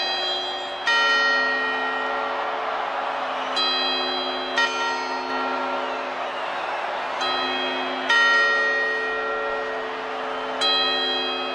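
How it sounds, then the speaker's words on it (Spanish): Church bells ring at New Year, with about five struck chimes spaced a couple of seconds apart, each ringing out with a long, fading tone. "Y ahora las campanadas."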